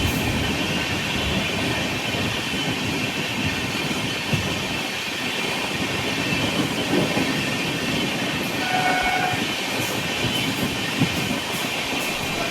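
The Devagiri Express, a Lingampalli to Mumbai CSMT passenger train, rumbles along its rails with a steady, loud wash of wheel and carriage noise, faint squeals and clatter riding on top throughout.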